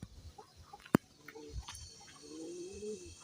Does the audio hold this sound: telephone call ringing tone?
no